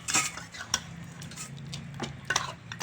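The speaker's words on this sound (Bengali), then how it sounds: "এবার এটাকে আমি একটা পাত্রের মধ্যে ঢেলে নেবো, একটু নাড়াচাড়া করে।" Chicken kosha tipped from the pan into a bowl and stirred, with close metal spoon scrapes, clinks and knocks against cookware in an uneven rhythm over a faint background.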